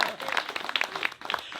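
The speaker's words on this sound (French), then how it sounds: "On l'applaudit." Wedding guests at a golf club reception give a brief, scattered round of applause, light and somewhat distant, mixed with chatter.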